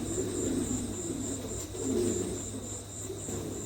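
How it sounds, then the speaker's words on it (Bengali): A pair of fancy pigeons coos in low, soft rolling calls, several swelling phrases under a constant high insect-like hum and background noise. "দর্শক এখানে এক জোড়া কবুতর আছে"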